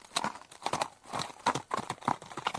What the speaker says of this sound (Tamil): வீரர்கள் குதிரைகளை தட்டிவிட்டுக் கொண்டு போன பிறகு